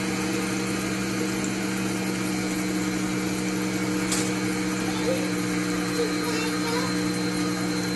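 An electric mixer beats brownie ingredients for marbled brownies, a steady humming motor drone that stays constant and fairly close throughout, with a voice speaking briefly over it.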